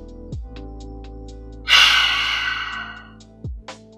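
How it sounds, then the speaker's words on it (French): A single forceful lion's breath yoga exhalation, pushed out with the tongue out, bursts in sharply and trails off over about a second, set against a soft steady drone and quiet breaths before and after. "On fait la respiration du lion pour purifier le corps."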